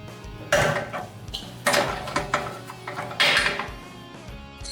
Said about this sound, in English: The next thing we need to do is loosen up 2 swing bolt assemblies there.